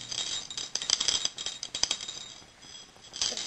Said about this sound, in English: That's the sound of their coin in the bottle.